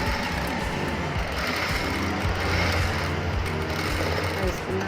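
A sewing machine stitching back over an existing seam on fabric, running as a steady, close mechanical whirr with a rapid needle rhythm, while a person talks over it.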